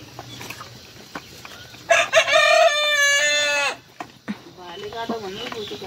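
A rooster, either a Giriraj breed or a local chicken, crows once loudly and close by in a long, wavering call, between quieter clucks and soft background voices.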